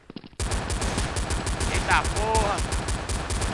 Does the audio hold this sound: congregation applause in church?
no